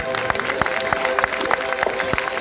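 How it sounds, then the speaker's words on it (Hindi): An audience at a devotional bhajan gathering claps in honour of Hanuman, with short, even rhythmic claps repeating over a continuous background of crowd noise. "एक बार तालियां बजरंगबली के सम्मान में।"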